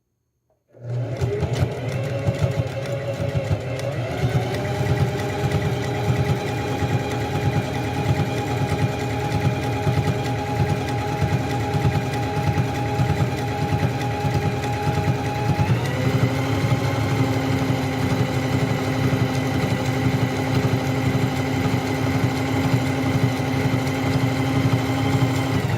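A sewing machine stitches a zigzag seam joining two layers of fabric, running steadily and close with a fast, even rhythm for most of the span and a slight pitch shift midway, with no voices.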